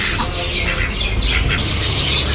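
Ducks quacking and squawking in a busy bird enclosure at the Subrahmanya Swamy temple, harsh calls overlapping at close range over a steady noisy background, with a faint voice nearby.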